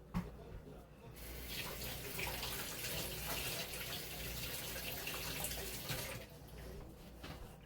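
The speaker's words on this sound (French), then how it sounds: "On passe ça en dessous de l'eau." Water from a tap runs steadily for several seconds while dyed eggs are rinsed under it, a broad hissing splash that stops abruptly near the end, with no one talking.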